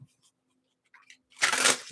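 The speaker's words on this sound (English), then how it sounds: "So let me shuffle appropriately." A deck of cards shuffled in a short riffle burst lasting about half a second, close and fairly loud, after near silence with a few faint clicks.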